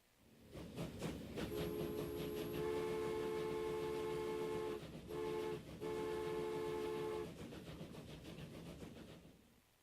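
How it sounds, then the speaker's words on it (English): Train moving in the Transport Fever video game, a rumbling run with rhythmic clacking and a sustained tonal horn blast lasting several seconds with a short break, then fading rumble. "And then there goes the new train."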